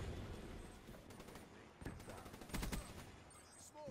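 Rapid gunfire from the video game Call of Duty Black Ops 3 crackles in a few quick bursts under muffled background noise, fairly faint overall.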